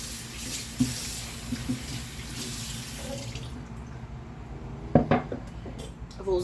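Tap water runs steadily into a kitchen sink during washing, a continuous splashing hiss with a few clinks of dishes or cutlery, and the flow cuts off near the end.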